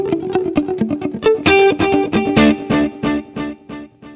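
Electric guitar played through a small pedalboard with a dotted-eighth delay: loud, distorted chords and notes, each struck note followed by rhythmic repeating echoes, with no talking over it.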